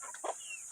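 A few chickens in a small home garden give a short, faint cluck or two in the open air.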